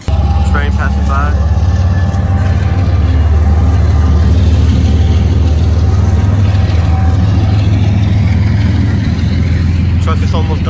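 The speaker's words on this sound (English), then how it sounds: "Train passing by." A train rumbles past nearby, a loud, steady low roar with a rough mechanical texture that holds unbroken for about eleven seconds.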